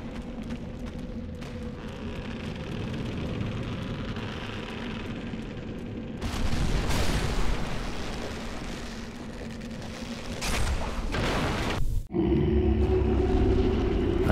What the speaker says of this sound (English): I'll just destroy the bridge, just in case.